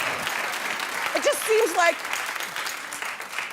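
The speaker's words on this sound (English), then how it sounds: "you can clap on with that." Applause from a studio audience at a daytime talk show taping, steady crowd clapping throughout with a speaking voice rising over it midway.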